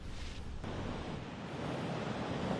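Loud, steady rush of water beside a boat in the Blade and Sorcery VR game, a constant broadband wash that stays even and close throughout, with no voices.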